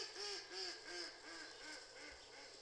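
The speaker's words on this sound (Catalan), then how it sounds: "És un ànec, sí." In the Omnitux educational game, a duck sound effect gives a run of roughly six faint, nasal quacks at a regular pace, with no talk over them.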